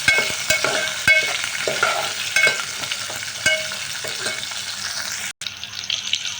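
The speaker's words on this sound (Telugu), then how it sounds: "ఇప్పుడు మనం మొత్తం మిక్స్ చేసుకోవాలి." Cumin and mustard seeds sizzle and crackle in hot oil in a pan while a utensil stirs them. The frying hiss is loud and continuous, punctuated by sharp scraping taps of the spoon against the pan.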